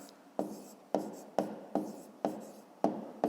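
A pen writes on paper during a fifth-grade math exercise, making close scratchy strokes in a regular rhythm of about seven short bursts, each starting sharply and fading. No voice is heard.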